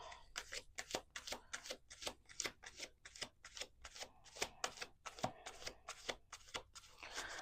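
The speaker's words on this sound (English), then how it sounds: "One last shuffle." Close, quiet tarot card shuffling with steady, rhythmic riffling and flicking strokes repeating evenly throughout.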